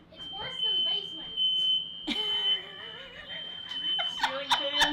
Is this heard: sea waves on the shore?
no